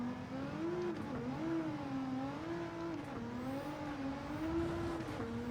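An Alpine A110 with a GTR engine swap is driven on Tokyo Expressway in Gran Turismo 7, its engine droning steadily with a wavering pitch as revs rise and fall through gears, loud and close, with no talk.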